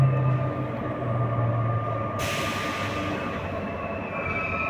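Commuter train rumbling between Massy and Bourg-la-Reine near Paris, a steady close interior roar of wheels and motor with a low hum, brightening into a hissier rush partway through, no voices.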